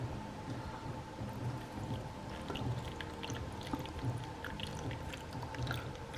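Water pours steadily into a sink for a cave rivers experiment, a continuous rushing, splashing wash with no voices, moderately quiet and close.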